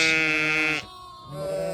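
A sheep on a farm gives one loud, close bleat, then a short, softer second bleat after a brief pause.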